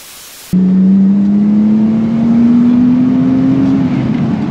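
A car engine suddenly kicks in loud and close, then holds a sustained rev whose pitch climbs slowly for about three seconds before easing slightly, with no voices over it.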